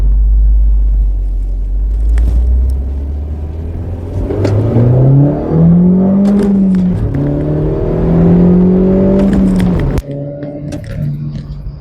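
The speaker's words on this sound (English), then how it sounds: "I'm in 6th gear at the moment. I'm doing 70 kilometers an hour and the car's nice and quiet." A Mini Cooper S fitted with a K&N panel air filter cruises in sixth gear at 70 km/h, its engine a steady, close, moderate hum whose tone rises mid-way and then drops abruptly near the end, with no one talking.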